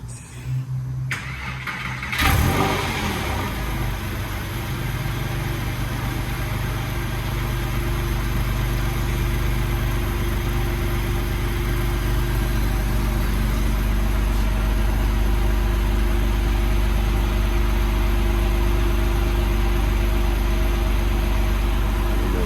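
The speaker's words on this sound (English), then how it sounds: "We're gonna just open up the top here, show you the top works right." A 2006 Porsche 911 Carrera S Cabriolet with a six-speed gearbox fires up after a brief quiet start, then settles into a steady, close engine idle with a faint mechanical hum of the convertible top running beneath it.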